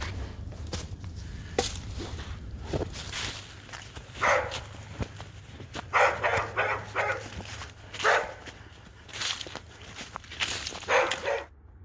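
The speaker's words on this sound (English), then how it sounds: "Those are some angry dogs." Angry dogs bark on a hiking trail in irregular bursts of several barks each, moderately loud and somewhat distant, with footsteps crunching in between.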